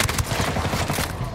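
Rapid, close gunfire crackles in Ghost Recon Wildlands, a dense string of sharp shots packed into a short burst with little else around it.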